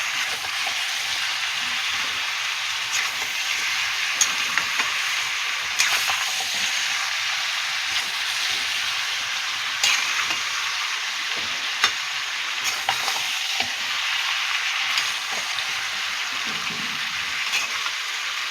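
Fish-roe curry cooking in oil with salt, a loud, dense, continuous sizzle with soft scraping stirs repeating through it.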